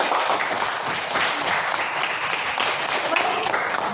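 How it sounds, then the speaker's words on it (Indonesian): A classroom of students claps for a classmate who has just answered a question, a steady dense patter of hands that holds evenly from start to end with faint voices mixed in. "tepuk tangan lagi untuk Angie."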